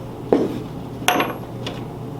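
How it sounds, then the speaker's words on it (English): An M4 assault rifle's bolt is slid back in during reassembly after a field strip, giving two sharp, close metallic clicks and a fainter third clink in a quiet room. "Now putting it back in, I'll line your bolt up."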